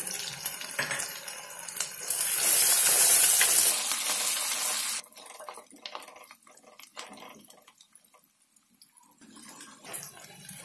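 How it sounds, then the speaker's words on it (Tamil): Onions fry in a pan for sprouted fenugreek kuzhambu, a hissing sizzle that swells loudly for a few seconds, then drops to fainter crackles and stirring. "வெங்காயம் நல்லா ரெட்டாக ஃப்ரை ஆகும்"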